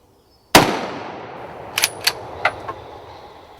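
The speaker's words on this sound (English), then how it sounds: "there's not much doubt about this decisive shot" A single sharp rifle shot rings out during a muntjac deer hunt in Essex, loud and close, followed by a fading echo and several softer metallic clicks and clacks of a reload. No one speaks.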